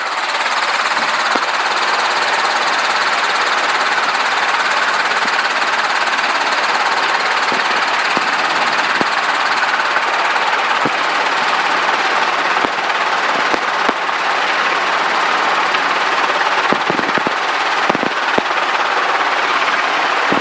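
An aircraft departing runway 8 right at KCPM, a loud, steady engine drone that runs unbroken with a few faint clicks and knocks.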